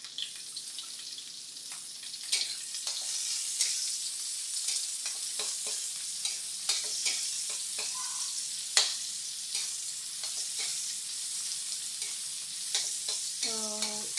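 Pork sizzles in a hot pan throughout, a dense, close frying hiss broken by frequent scraping and stirring clicks of a utensil.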